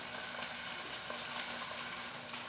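A one-pot leftover rice dish simmers on the stove, giving a soft, even hiss and faint bubbling crackle that runs steadily throughout, quiet and close, with no talking.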